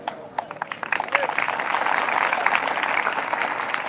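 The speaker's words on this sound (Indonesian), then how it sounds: "Kenapa kamu tepuk tangan?" An audience at a church sermon breaks into clapping, sparse claps at first building into fuller applause that holds steady to the end, with voices underneath.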